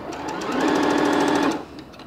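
A C403B sewing machine stitches in a fast, even rapid-fire chatter for about a second, close and loud, starting and stopping cleanly with quiet room hum around it.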